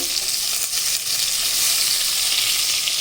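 Korameenu fish pieces fry in hot oil with a dense, steady hiss and crackle, loud and close, continuous and alone.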